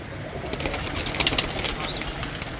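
Teddy pigeons kept by a breeder coo and rustle, with brief flaps of wings, close and fairly loud against a busy background of bird noise, with no talk.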